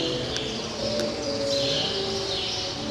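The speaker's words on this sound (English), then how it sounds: "And hear the birds." Birds chirp and sing in Central Park, New York City, light repeated calls over a steady outdoor hum with distant music, moderately near.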